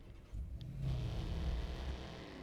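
A car engine in the Watch Dogs video game rumbles low and steady after a brief quiet start, a continuous moderate drone with no talk over it.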